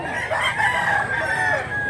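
A rooster crows once, loud and close, in a drawn-out call against outdoor background noise at a Cebu gathering where roosters are being offered for sale.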